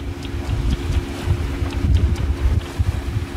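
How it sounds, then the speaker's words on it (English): Strong headwind buffets the microphone aboard a small trailer sailboat heading toward Magnetic Island on the Barrier Reef, a continuous loud rumbling gusting roar with water washing beneath, no voices. "The wind at the moment is smack on the nose"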